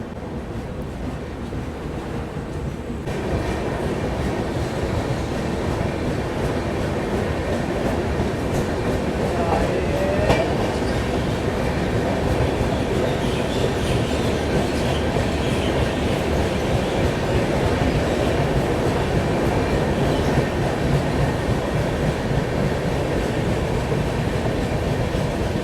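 Garib Rath Express passenger train picks up speed after passing Tundla Junction, heard from inside as a steady, loud rumble and rattle of wheels on rails that runs throughout with no break.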